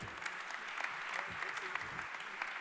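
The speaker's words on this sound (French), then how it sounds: "On peut l'applaudir." Audience applause at a French startup awards event for a smart city grid competition, steady clapping sustained throughout at moderate distance, with a voice faintly present beneath it.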